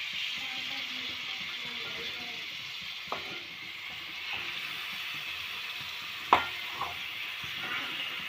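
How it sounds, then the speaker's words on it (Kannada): Half a kilo of marinated chicken frying in a kadai over medium heat for pepper chicken: a steady, even sizzle throughout, broken by a few clinks and one sharp scrape of a utensil. "ಹಾಕ್ಕೊಂಡು ಚೆನ್ನಾಗಿ ಅದನ್ನು ನಾನು ಫ್ರೈ ಮಾಡಬೇಕಾಗುತ್ತೆ"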